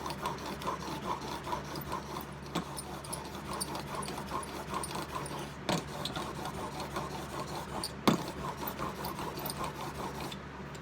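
A steel chisel is rubbed back and forth on a high-grit sharpening stone, giving a steady, close rasping scrape with a few sharper knocks as the stroke shifts. No one speaks.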